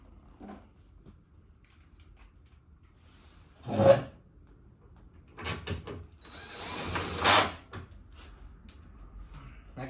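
A power drill set to a low torque setting runs in short bursts while driving screws during a car bumper install, giving a few brief whirring spins with quiet pauses between them and faint speech early on.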